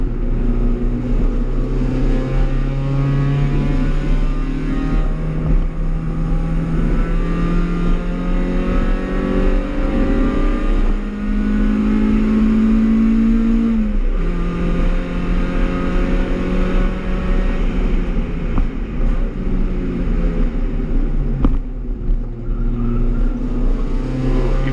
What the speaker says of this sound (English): Squeal the tires, it must be drying up there. I hear the tires squealing.